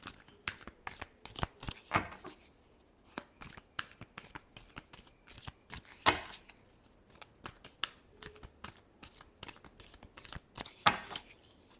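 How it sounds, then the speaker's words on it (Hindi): Tarot cards being shuffled by hand, a long run of quick riffling bursts and soft flicks, close and crisp with short pauses between shuffles. "last shuffle"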